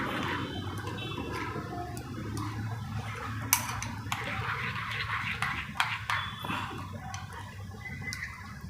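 A spoon mixes vegetable raita with chaat masala and a pinch of salt in a bowl: soft wet churning with scattered light clicks and taps of the spoon against the dish, close and steady throughout.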